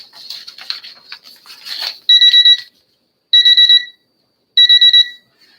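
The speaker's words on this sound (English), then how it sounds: "as the alarm goes off" An electronic alarm sounds in three loud repeated bursts of rapid high beeps, separated by short silences, breaking into a live auction after some rustling noise.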